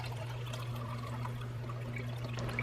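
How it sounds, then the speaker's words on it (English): Chicken broth poured from a carton into a can in a home kitchen, a steady continuous liquid pour over a constant low electrical hum, no talking. "Some chicken broth we're going to put in the can."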